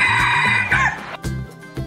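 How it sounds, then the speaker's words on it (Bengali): A rooster crows one long, loud, strained call close up, followed by a few short, sharp clucks and pauses. "মোরগকে ইংলিশে বলে রোস্টার"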